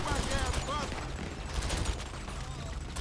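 Gang-war gunfire in GTA Online rattles in scattered bursts and single shots at moderate distance, mixed with background game sounds and occasional voices.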